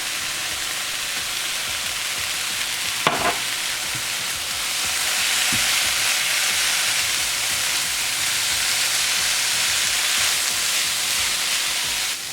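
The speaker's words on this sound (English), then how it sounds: "And just mix it all in until the spinach cooks down." Spinach and turmeric fry and get stirred in a pan, giving a steady, close broadband sizzle throughout with a brief clatter of a utensil against the pan partway through.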